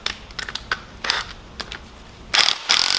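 Ratcheting clicks and metallic tool scrapes come from tightening down the starter clutch rotor on a 1970 Honda CL350, in short irregular bursts that get louder near the end, close by with no voices.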